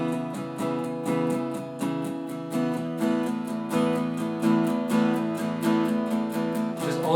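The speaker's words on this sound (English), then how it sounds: "So you just kind of down strum." Guitar down-strummed in a steady, even rhythm, alternating between the two verse chords of a song, with open strings ringing, close and clear with no talk over it.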